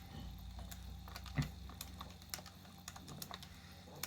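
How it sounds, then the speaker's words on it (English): A calculator keypad is tapped to solve an A-level maths problem, giving sparse, faint clicks at an uneven rhythm with one firmer press, heard alone in a quiet room. "so I'll type into my calculator"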